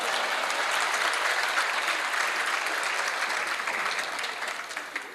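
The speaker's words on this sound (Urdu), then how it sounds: "میں قسم کھاتا ہوں یہ ہال تالیوں سے گونجتا رہے گا" Sustained audience applause fills a literary event hall, dense and steady clapping from a large crowd that tapers slightly toward the end.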